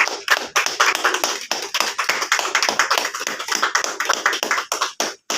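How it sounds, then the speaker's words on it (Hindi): Attendees at an Amway diamond celebration meeting clap loudly in quick, sharp bursts, a fast irregular rhythm of close hand claps with brief gaps near the end. "जोरदार ताली"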